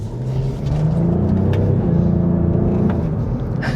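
Heard from inside the cabin, a 2023 Cadillac CT4-V Blackwing accelerates in track mode with manual gear selection. It gives a loud, steady engine drone that swells and rises slightly in pitch, with no talking.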